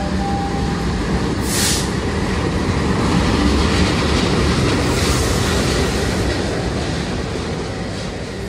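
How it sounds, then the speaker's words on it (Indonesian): The Argo Semeru executive train pulls out of the station on the southern Surabaya–Jakarta line, a loud, steady rolling rumble with faint clickety-clack of wheels over rails throughout. "Manggajati dari Jember tujuan Cirebon lewat Jogja baru masuk jalur 5 dan Argo Semeru langsung berangkat."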